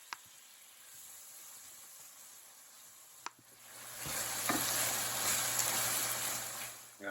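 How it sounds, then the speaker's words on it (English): Roma tomatoes hitting a pan of oil and dissolved anchovies: a faint hiss and a sharp click, then the sizzle swells loud and stays strong and steady as they are stirred, no talk. "Now let's go ahead and add these Roma tomatoes. Stir those around in there."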